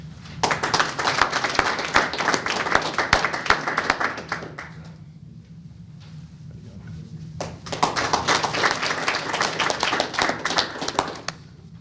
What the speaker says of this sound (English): And another round of applause for Derek